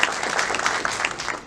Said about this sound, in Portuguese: Salva de palmas, então, para o pessoal todo que está aqui participando.